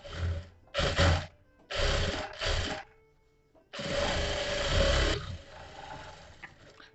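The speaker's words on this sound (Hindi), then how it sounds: "डबल सिलाई लगा दी हमने बढ़िया तरीके से।" A sewing machine double-stitching the sleeve of a princess cut blouse whirs in short close bursts, four quick runs and then one longer steady stretch, with brief quiet gaps between them.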